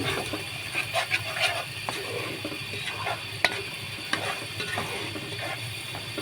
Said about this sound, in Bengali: মশলাটা এখন নেড়ে নিচ্ছি।